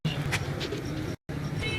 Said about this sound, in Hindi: मेरे गोल्डन कबूतर हैं